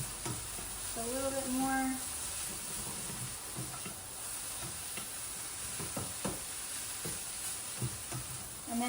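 Brussels sprouts, seasoned with pepper, sizzle in a pan as they are stirred, a constant close frying hiss with soft scrapes. A person speaks briefly over it.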